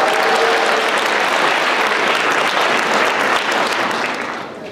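Audience in a lecture hall applauding, a dense, loud wash of many hands clapping together that stays steady and then tapers off near the end.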